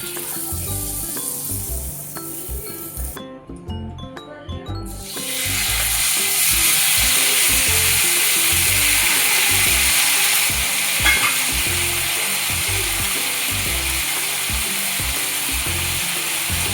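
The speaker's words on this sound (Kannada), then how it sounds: "ಮೀಡಿಯಮ್ ಫ್ಲೇಮಲ್ಲಿ ಫ್ರೈ ಆಗಲಿ." Chicken tikka on a stick frying in butter on a medium flame, a dense continuous sizzle that briefly drops away and then swells back louder and steadier, close and full.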